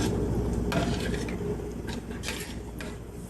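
A spoon scrapes and stirs semiya payasam, a vermicelli pudding, in a pot, with close, irregular clinks and swishes over a soft simmering background.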